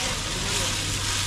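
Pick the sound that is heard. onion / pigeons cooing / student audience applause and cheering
onion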